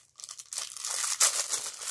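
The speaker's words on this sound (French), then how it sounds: "Je vais enlever le papier parce que." Paper wrapping crinkles and tears close by, starting with a few light rustles, then a continuous loud crumpling with a sharp rip partway through.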